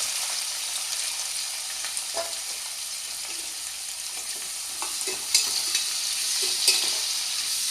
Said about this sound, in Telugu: వేగిన తర్వాత సన్నగా తరుక్కున్న ఉల్లిపాయ ముక్కలు వేసుకుంటున్నానండి